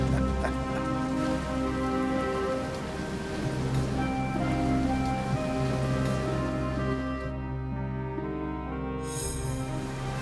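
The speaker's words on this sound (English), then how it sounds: "The rain covered the whole earth." Heavy rain falls steadily in an animated Bible story, a dense continuous wash of downpour with a low rumbling layer beneath, loud and unbroken, easing slightly near the end.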